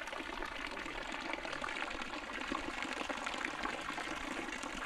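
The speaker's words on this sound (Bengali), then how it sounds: "ওপর থেকে জল এসে বাঁশের খোলায় করে জল এসে পড়ছে।" Water runs steadily down a bamboo channel at a tea estate homestay, a continuous splashing, gushing pour heard close and fairly loud with no talk.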